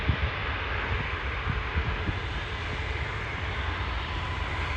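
An Air Canada Rouge Airbus A319 jet airliner bound for Antigua rumbles steadily at a distance, a broad even roar with a slight low flutter and no voices.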